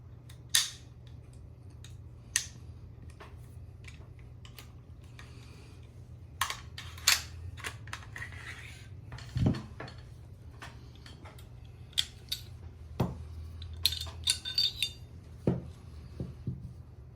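Gun being disassembled and cleaned at a bench, a quiet series of sharp metallic clicks, snaps and clacks from parts being handled, scattered irregularly and close, with no talking.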